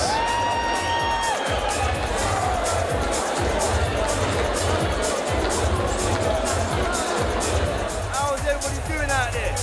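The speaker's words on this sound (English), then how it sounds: "let's have a round of applause for Mike Gold," A crowd at a boxing promotion cheers and whoops over a steady roar of hubbub and chatter, with a voice carrying over the noise throughout.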